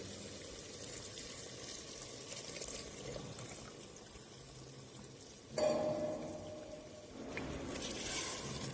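Deglazed water from the sautéed mutton poured into a pan of mutton rogan josh, a soft continuous liquid splash and trickle with a louder surge partway through, alone without talk.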